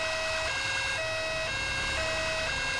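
Ambulance siren from the video game GTA 5, a steady electronic wail that keeps cycling with repeating tones, moderately loud and continuous with no speech.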